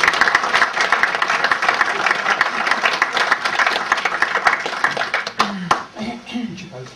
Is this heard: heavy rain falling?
no